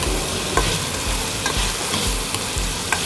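A ladle scrapes and crushes tomatoes in a frying pan over steady sizzling, with repeated stirring knocks at an uneven rhythm, close and moderately loud, with no talking.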